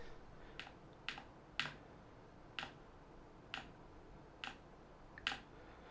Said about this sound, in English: So if we press the Windows key,